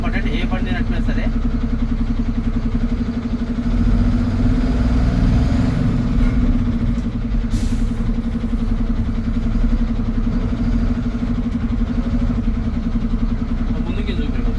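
Steady mid-pitched drone of a lorry's engine as the truck pulls forward, a constant idling-like hum running throughout with slight swells, while someone talks over it.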